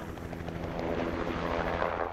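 Helicopter passing overhead near the Makarora River during aerial poison bait drops, a loud continuous rotor thrum and engine drone that swells slightly as it passes, with no voices.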